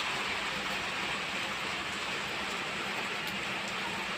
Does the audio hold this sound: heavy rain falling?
yes